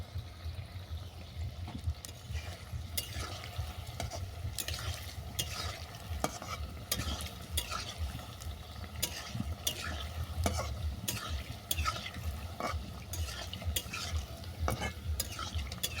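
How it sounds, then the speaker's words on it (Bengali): Small banana malpua fritters sizzle in hot oil, a soft continuous crackle with scattered sharper pops and occasional stirring scrapes, fairly quiet and close, no voices. "মালপোয়াগুলো সুন্দরভাবে ভাজা হয়ে গেছে এগুলোকে তেল থেকে নামিয়ে নিয়েছি বাকি যেগুলো আছে একইভাবে ভেজে নেব"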